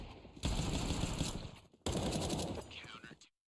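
Rifle fire in Counter-Strike 2 comes as two loud, dense bursts of rapid automatic shots, separated by a short gap and ending abruptly.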